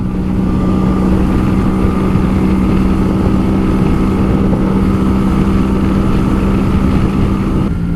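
A Honda Shadow 125 motorcycle engine runs steadily while riding at an easy pace, a continuous low drone with a constant hum and road noise, loud and close throughout with no pauses.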